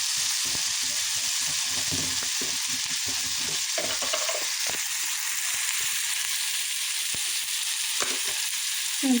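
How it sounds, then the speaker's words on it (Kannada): Green beans fry in hot oil for a hotel-style bean palya, giving a steady, dense sizzle with frequent stirring scrapes and clicks throughout, fairly loud and with no talking. "ಎಣ್ಣೆಯಲ್ಲಿ ಫ್ರೈ ಮಾಡ್ಕೊಳ್ಬೇಕು"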